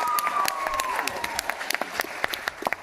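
A crowd claps in scattered, uneven bursts while a fading tone trails off at the start.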